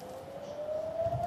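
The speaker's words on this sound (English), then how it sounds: "You can hear the sirens now here in central Jerusalem" Air raid sirens wail steadily at a distance in central Jerusalem during a missile attack, the tone rising slowly, with faint low rumble underneath and no talking.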